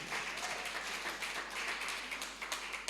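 Congregation applause at a church worship service, faint and distant steady clapping with no voices over it.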